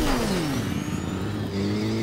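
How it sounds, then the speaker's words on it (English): Motorcycle engine in Fortnite revving up, a close, loud, steady drone with pitch sweeping downward then leveling off over about two seconds. "I'm gonna get on the motorcycle."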